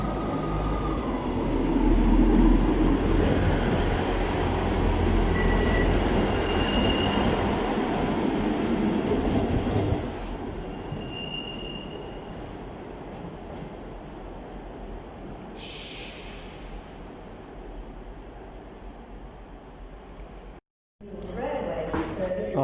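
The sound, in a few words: East Midlands Railway HST train arriving at Nottingham station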